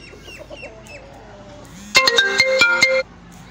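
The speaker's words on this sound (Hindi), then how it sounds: "मुझे कॉल आ रही थी अंदर बार बार" Mobile phone ringtone from an incoming call, a loud bright electronic melody of rapid repeated tones lasting about a second, following quieter chirping bird-like sounds and faint background noise in a poultry setting with aseel roosters.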